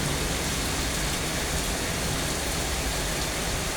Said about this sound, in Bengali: অনেক জোরে বৃষ্টি এসেছে, তো বৃষ্টিটা আপনাদের সঙ্গে একটু শেয়ার করলাম।